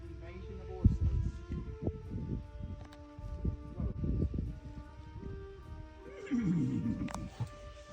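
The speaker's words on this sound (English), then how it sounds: "Hello, horse." Horses in a field whinny and neigh, with a loud close call near the end and scattered hoof and rustling sounds. People talk and call out over the animals throughout.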